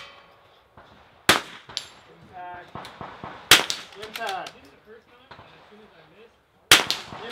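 A rimfire rifle fires at steel targets during an outdoor NRL22 match. Sharp shots are followed by faint metallic pings from the hits, and voices talk quietly between them.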